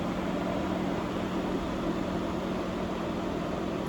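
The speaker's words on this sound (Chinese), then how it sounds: "所以这个是风扇散热的声音" A Ford Focus MK4 engine-bay cooling fan runs with a steady, loud, broadband whir and hum. The sound holds at an even level for the whole stretch, with no other noises and no talking.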